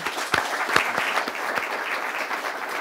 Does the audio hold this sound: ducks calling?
no